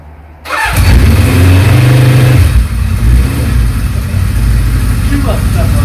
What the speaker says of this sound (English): So let's see how it starts.